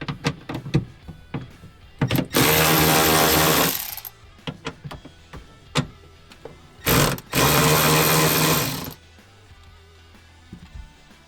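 A power tool loosens bolts on a cargo MOLLE bracket inside a two-door Ford Bronco. Two loud, steady whirring bursts of about two seconds each sound up close, with scattered clicks and handling knocks before, between and after them.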